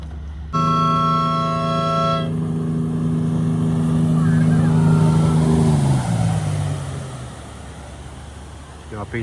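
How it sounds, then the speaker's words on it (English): A speedboat at the seaside in Bridlington, starting with a sudden loud, buzzing engine drone that holds steady, then drops in pitch and fades into a broad rushing wash of water and wind. "I've been on that speedboat,"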